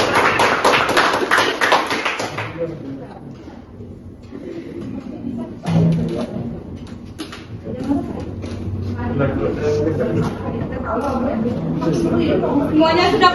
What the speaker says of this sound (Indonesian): Hebat kita tepuk tangan.